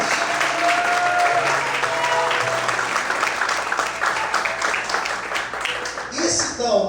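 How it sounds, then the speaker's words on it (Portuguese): A church congregation claps through a worship service, dense sustained applause that holds steady for several seconds, with voices and musical tones woven underneath. "Todos podem aplaudir"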